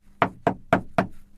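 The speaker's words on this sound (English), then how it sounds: "There was a knock at the door." Four firm knocks strike a door at an even, steady pace, close and distinct with no voices around them.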